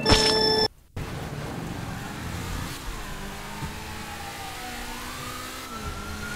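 A car accelerates away at the start of a street race, its engine rising and whining steadily from near to farther off after a brief loud burst and a silent gap.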